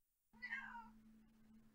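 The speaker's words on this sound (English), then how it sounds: "That was a cat." A house cat gives one short, clear meow, close and fairly quiet, over a faint steady hum.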